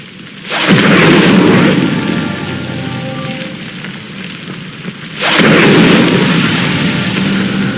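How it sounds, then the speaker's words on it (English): Fire spell bursting on a pyre in the video game Hogwarts Legacy, two loud whooshing, rumbling flame surges a few seconds apart, each settling into a sustained low roar. "Incendio. The flames make the pyre sink."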